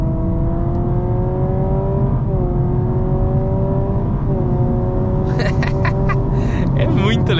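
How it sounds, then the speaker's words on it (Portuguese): Honda Civic hybrid accelerating hard from 70 km/h, its speaker-simulated engine roar climbing in stepped harmonic tones with brief dips at each simulated gear change, loud and steady over road noise, with a faint whir near the end. "O sistema simula a marcha e as caixas de som fazem um ronco bem legal."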